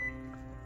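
Steady low hum of a running microwave oven heating food in a home kitchen, close and continuous with a faint tonal whine, no talking.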